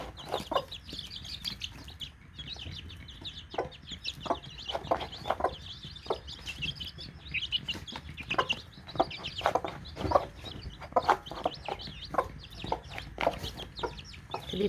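Newly hatched chicks peeping constantly in a dense, busy chorus of high chirps, close by and fairly soft, with no voices.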